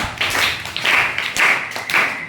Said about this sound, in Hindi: तालियां भाई के लिए,